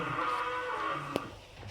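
A cow at a rural home gives a low, drawn-out moo, moderately close, with faint background noise and a brief sharp knock partway through.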